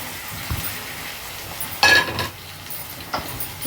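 Eggs tipped into a pan of drumstick curry with tomatoes and chili, a few soft clatters and a brief sizzling burst over a low background hiss, with utensil taps scattered through.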